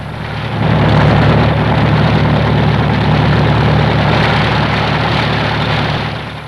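Loud, low mechanical drone with a steady thumping pulse, like a helicopter close by, swelling in at the start and easing slightly at the end.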